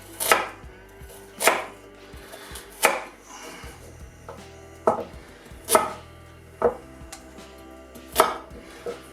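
A knife slices beef shin into thick pieces, landing about nine firm, separate chops on a board at a slow, fairly regular pace, close up with no talking.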